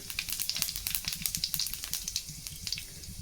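Cumin seeds hit hot oil in a kadai and sizzle hard, a dense crackling hiss with rapid pops, close and steady.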